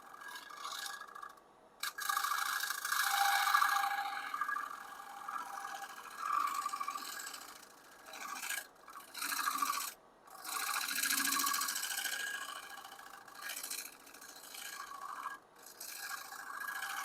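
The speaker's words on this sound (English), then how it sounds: "Getting really nice shavings, a lot of sawdust, which means we're getting a good shear scrape" Box elder wood scraped on a lathe at modest speed with light shear-scrape passes, giving a continuous close rasping hiss that swells and fades with each pass and breaks off in short gaps.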